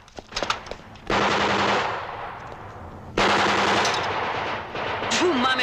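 Sustained machine-gun bursts and gunfire in a war-drama battle scene featuring Yugoslav People's Army soldiers, loud and close, with two long continuous volleys separated by a short lull.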